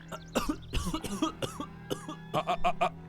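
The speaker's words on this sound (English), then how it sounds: "struggles to his elbows, coughing up blood" A man coughs hard in a series of harsh, wet bursts, pausing briefly between fits, close by.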